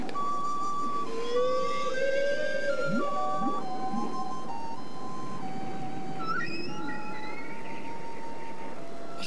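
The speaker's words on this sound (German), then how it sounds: "spielt auf ihrer Blockflöte ein Lied für die Wale" A recorder plays a simple tune for whales in a German radio play, its bright sustained notes stepping up and down over a soft airy background, with a brief higher melodic passage near the end.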